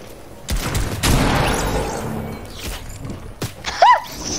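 A sniper shot in the Fortnite Team Rumble mode rings out as a sharp crack, followed by a dense burst of further gunfire and a later pinging effect, over low game ambience.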